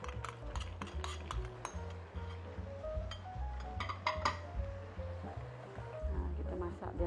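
Chili powder and fish curry powder sautéing in a pan while being stirred, with steady frying, scraping and clinks of a utensil against metal over a low background hum, with a voice speaking faintly.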